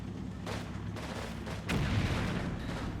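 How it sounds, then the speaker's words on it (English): Tank main cannons fire in Combat Mission Red Thunder, several heavy booming shots in quick succession with a sustained low rumble between them, moderately distant. "I'm going to get my tanks to come up here and provide support with their main cannon"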